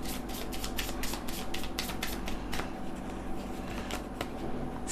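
Tarot cards being shuffled by hand, with quick papery riffles and flicks in a rapid, uneven rhythm, close and fairly soft, fading toward the end.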